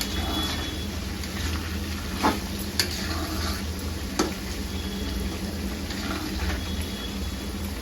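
Schezwan chutney with green chillies cooks in a pan with a low continuous sizzle and hum, broken by a few faint scraping knocks of a spoon stirring against the metal.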